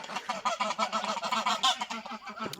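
Several laying domestic geese honk repeatedly in a noisy, overlapping chorus of nasal calls, close by and fairly loud, with no talking.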